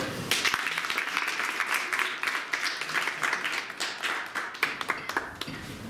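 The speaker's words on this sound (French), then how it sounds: "je crois qu'ils méritent aussi que vous les acclamez un peu" An audience applauds to thank a group of supporters, a dense burst of clapping with scattered cheers that rises quickly and then thins into separate claps.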